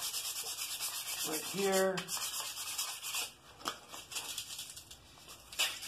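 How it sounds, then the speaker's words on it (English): Sandpaper of 220 grit rubbing over the handle of a wooden key holder, giving a soft scratchy hiss in short strokes across the clip, with a brief spoken remark near the start. "Alright, sanded her up a little bit."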